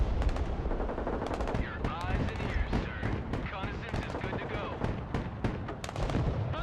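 Dense, continuous gunfire and artillery in the war game Broken Arrow: rapid machine-gun bursts and heavy booms pile up without pause, loud and close, with a voice partly under the barrage.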